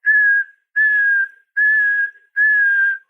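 A person whistles an imitation of the prothonotary warbler's simple song: four clear, even, sustained whistled notes, each about half a second long with short gaps between them, close and alone.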